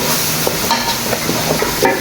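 Rice-washing water pours into a cooking pot for a tinola with papaya and chili leaves, a loud, steady splashing gush lasting about two seconds.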